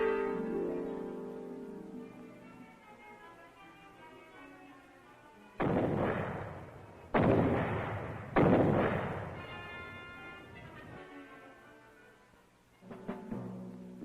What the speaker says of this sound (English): Care should be taken in detonating these grenades.